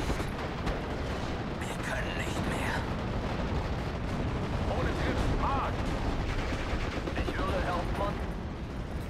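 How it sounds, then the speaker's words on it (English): Sustained barrage of long-range artillery and gunfire from the Steel Division: Normandy 44 battle at Pegasus Bridge, dense continuous booms and crackling shots filling the whole stretch, with voices faintly mixed in. "we'll bring in some long range artillery"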